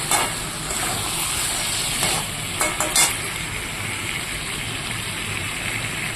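Meat being sautéed (kosha) in a pan in a home kitchen, giving a steady, close hiss and sizzle with a few brief louder scrapes of stirring partway through. No voices.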